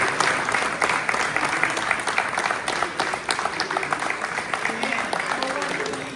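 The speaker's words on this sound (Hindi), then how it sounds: "कोर्ट रूम में मौजूद फाजिल जजों समेत तमाम शुरका ने उनका खड़े होकर और तालियां बजाकर भरपूर अंदाज में खैर मकदम किया" Judges and others in a New York courtroom give a retiring judge a standing ovation, with steady, dense applause and murmured voices underneath.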